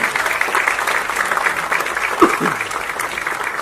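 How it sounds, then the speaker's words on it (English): Steady applause from an audience at a film trailer launch event, clapping evenly throughout with a brief louder accent partway through. "A big round of applause, ladies and gentlemen."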